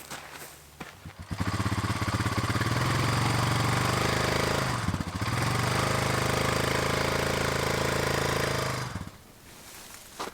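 Vehicle engine revving loudly and close while towing a rain roof set on an axle, a sustained rough drone that starts abruptly, dips briefly midway, then continues before cutting off, with no talk.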